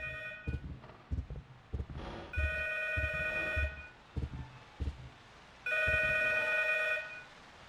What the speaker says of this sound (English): and then the phone started ringing.